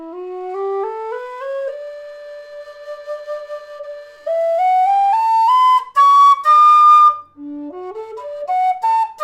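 A Howard low D tin whistle plays a scale, with clear pure notes stepping up one after another, then a few louder high notes and a short falling run, close and alone.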